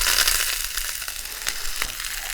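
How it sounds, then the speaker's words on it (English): Roughly chopped carrots, celery, onion, garlic, thyme, rosemary and bay leaf hitting a warm oiled pan, giving a loud, steady crackling sizzle close by with a few sharper pops, no voices. "Nice warm pan, a little bit of oil. And then this is a mixture of roughly chopped carrots, celery, onion, some garlic, thyme, rosemary and bay leaf."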